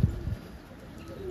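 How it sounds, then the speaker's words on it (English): A black saddle fantail pigeon hen gives low coos, two soft throaty pulses at the start and another at the end, close and quiet. "Black saddle fantail hen."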